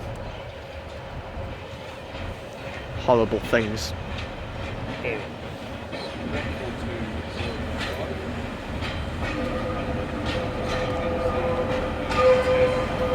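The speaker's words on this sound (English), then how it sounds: "arriving in now, we're going to have a terminating pacer from the Newcastle" A terminating Pacer train from Newcastle arrives at Carlisle station, its low rumble and squealing wheels steady at moderate distance, with a voice speaking briefly over station ambience.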